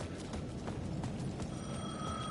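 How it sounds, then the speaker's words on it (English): A payphone rings at the edge of a plaza in the video game Alan Wake 2, a repeating trill of rings that sits far back under a steady ambient wash, with faint rhythmic knocks in the background. "The payphone at the edge of the plaza was ringing again."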